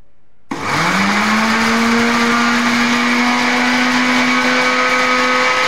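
A mixer grinder starts abruptly and runs at a loud steady whine, grinding mint chutney with chillies and pomegranate seeds, its pitch settling after a brief rise and holding constant to the end.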